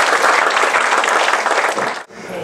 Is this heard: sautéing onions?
no